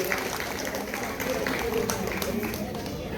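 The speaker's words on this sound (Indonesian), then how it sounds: "sekali lagi Bapak Ibu boleh beri tepuk tangan yang sangat meriah" An audience applauds at a wayang golek puppet show at Saung Angklung Udjo, a dense, continuous patter of clapping running under a voice.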